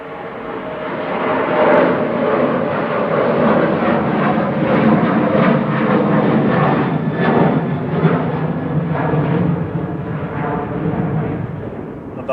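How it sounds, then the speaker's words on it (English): A Ryanair Boeing 737-800 departing Manchester Airport, its jet engines roaring loudly and steadily throughout with a rough, crackling rumble that tapers slightly toward the end. "This is Ryanair departing to Berlin with flight 1155 EIDYW 737-800."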